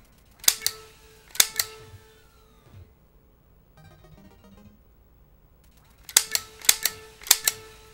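Sharp bursts of NES Duck Hunt zapper gunfire ring out in two clusters, crisp repeated shots with ringing echoes separated by a quieter game jingle.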